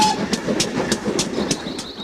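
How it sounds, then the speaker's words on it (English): A steam train passing by on an English railway, sounding as a steady rolling rumble with regular rhythmic clacks and bursts roughly every third of a second, fairly close and continuous, with no voices. "when a steam train chugs by, it's quite an exciting event for both young and old"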